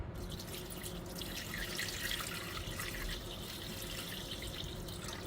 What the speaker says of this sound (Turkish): 440 gram su koyalım.